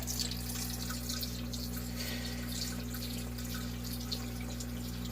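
Water pours steadily into an aquarium being refilled after its gravel was swapped for sand, a constant close splashing wash with no voices over it.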